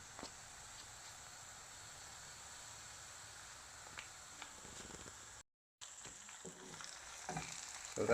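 Garlic and ginger fry alongside onions in a pan for chicken biryani, a quiet steady sizzle with occasional stirring scrapes and a brief break partway through.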